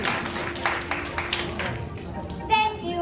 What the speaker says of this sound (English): So let's let Murray stand up and bathe in the applause.